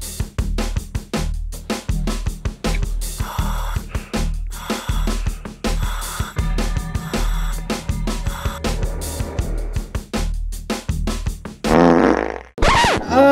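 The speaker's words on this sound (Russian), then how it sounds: "Это был чей-то пук!" Repeated cartoonish fart noises in a game where a dog tracks old scents, a long run of loud, close bursts with short gaps, ending in a brief high squeak.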